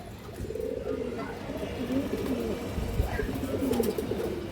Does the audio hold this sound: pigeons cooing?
yes